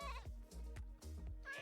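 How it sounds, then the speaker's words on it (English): Screaming goats in Minecraft let out a rapid series of short, harsh bleats, about four quick cries in under two seconds, close and loud with no talk. "driving everyone crazy, these 4 are screaming goats"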